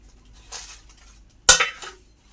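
Metal plate and pan clatter as a fish wrapped in leaves is flipped over in a kadai, a soft scrape followed by one sharp clattering knock and a short rattle, close and alone.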